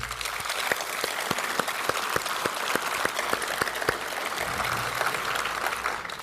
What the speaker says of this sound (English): can we just give a round of applause to the RFSA, please